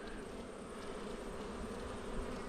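Honey bees around a backyard hive, a continuous dense buzzing drone that stays steady and close throughout, with no talking.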